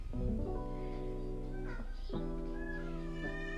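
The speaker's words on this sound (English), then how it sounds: "I'm sorry if you heard my cat." A pet cat meows several times at close range in a quiet indoor room, long drawn-out calls with rising and falling pitch, the first stretching for nearly two seconds and shorter ones following.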